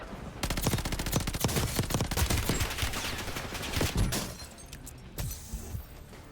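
Rapid, dense gunfire in the video game Call of Duty Warzone, with sniper shots amid a loud, sustained fusillade of cracks and bursts that thins out toward the end.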